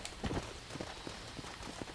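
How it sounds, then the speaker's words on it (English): Horse hooves clip-clopping in the video game Red Dead Redemption, a steady run of light, moderately close steps that continues alone throughout with no talk. "Just hang out with these horses over here"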